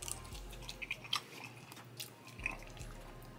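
Close, quiet chewing of potato and sausage during a seafood meal, with soft bites and squishy mouth sounds coming in irregular bursts with no talking.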